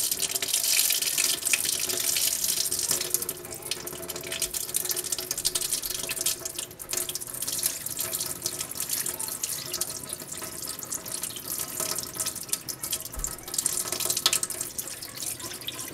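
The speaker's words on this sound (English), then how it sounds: "So you can see we're pouring off a lot of chunks of berry flesh here" Water carrying potato berry flesh, slime and seeds pours off steadily from a container, a continuous close splashing and trickling that runs for the whole stretch, with no talk.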